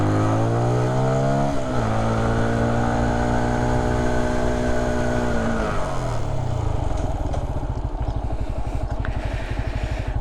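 A motorcycle on a riding test course revs and accelerates loudly and close, its engine pitch rising in steps as it shifts through gears, then settling into a rough, rumbling drone.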